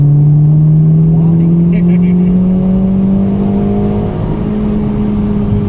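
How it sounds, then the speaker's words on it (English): Honda Civic engine pulling hard, a loud steady drone whose pitch climbs slowly and evenly as it revs up toward the limiter, close and continuous with no voices. "I had to hit the rev limiter because it's a Civic."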